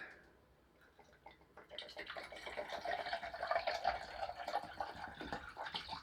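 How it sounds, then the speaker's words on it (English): Water poured from a container into a cup indoors in an attic, a steady rising trickle that builds after a brief pause and runs on for several seconds, close and fairly quiet. "Water, cup. So I'm just going to pour out enough."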